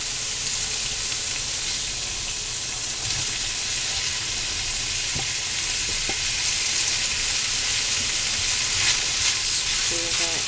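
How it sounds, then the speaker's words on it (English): Chopped onion goes into a pan of yellow summer squash already frying for a Mexican squash side dish, giving a steady, close sizzle with a few soft stirring clicks and no voices. "So now that that's going nicely, we are going to add the onion."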